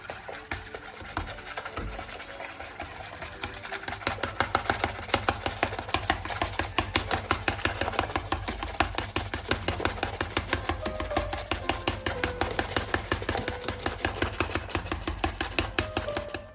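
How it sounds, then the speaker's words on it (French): A whisk beats cold milk and cocoa powder in quick, even strokes, a steady rapid clicking and swishing that starts softly and then settles into a fast, regular rhythm close by. "Je commence à fouetter le lait avec le cacao sans le chauffer pour le moment."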